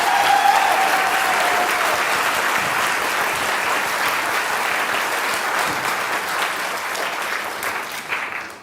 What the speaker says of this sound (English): everyone, give him another round of applause.